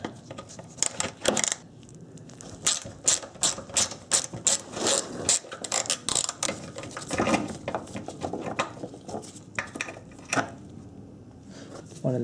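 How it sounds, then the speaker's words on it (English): Fasteners and plastic trim clips are worked loose from the splash shield under the front bumper of a Honda Accord, giving a close, busy stream of small clicks, snaps and rattles with brief pauses. "To get it off, you have to remove a few fasteners and trim clips."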